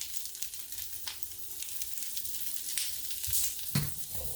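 Flat bread cooks in browned butter in a skillet, giving a steady close sizzle and frying hiss with a few brief clicks and a louder clatter near the end, no voices.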